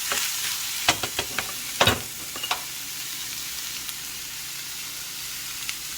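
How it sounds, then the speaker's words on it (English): Sambusa filling is stirred in a frying pan over a steady background sizzle, with a few scraping taps of the spoon against the pan early on before it settles into a quiet, even frying hiss. "mix them together."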